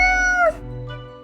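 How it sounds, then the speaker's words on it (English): A cat character in the video game Death and Taxes gives a short, clear meow that bends downward, followed by a softer trailing tone, close and alone. "The cat repeats a sequence of contented meows."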